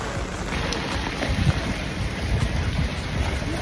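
Heavy typhoon rain pours steadily in Hong Kong, a dense, loud, unbroken wash of noise with low rumbling underneath that could be distant thunder or wind, and no voices.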